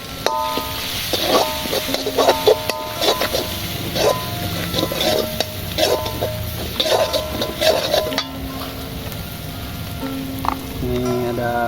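Rica-rica spice paste is stirred into eel frying in a pan, steady sizzling under repeated scraping and clinking of a utensil against the pan in an irregular rhythm, close and fairly loud.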